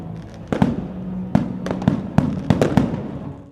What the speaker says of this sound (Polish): Nowy rok tradycyjnie rozpoczął się w Olsztynie hucznym pokazem fajerwerków.